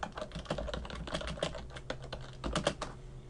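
Text is typed on a computer keyboard, a fast, continuous patter of close keystrokes with no gaps and no talking.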